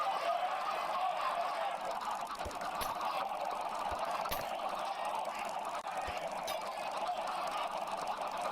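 Chickens in Minecraft cluck steadily in a dense, continuous flock chatter, with a few sharper clucks standing out over a constant background hum.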